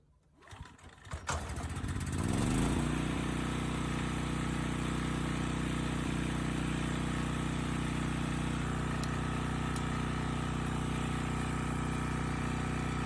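A generator engine cranks with a few rough bursts, then catches and settles into a steady, loud, continuous running drone that holds to the end.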